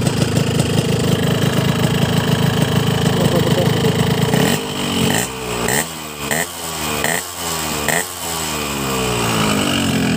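Two-stroke motorcycle engine with a racing exhaust, LRF Pro Street type, idling hot with a loud steady burble, then blipped several times in quick rising revs that fall back to a rough idle.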